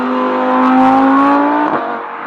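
A 2016 Audi R8 V10 Plus engine revs loud and close, its harmonic note climbing steadily for nearly two seconds before dropping away as the throttle lifts, with no voices present.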